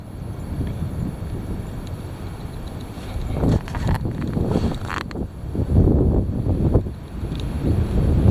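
Heavy wind buffets outdoors in rising, uneven gusts, a dense low rumble with rushing surges and some knocking, loud and close throughout.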